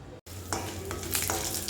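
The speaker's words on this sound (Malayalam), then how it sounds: "ചീനച്ചട്ടി അടുപ്പിൽ വെച്ച് 2 സ്പൂൺ വെളിച്ചെണ്ണയും ഒഴിച്ച് നമുക്ക് കടുക് പൊട്ടിച്ചതിന് ശേഷം ഉള്ളിയിട്ട് വഴറ്റുക" Frying in coconut oil in a wok, a brief close sizzle after a momentary cut, with a few louder stirring scrapes over a low steady hum.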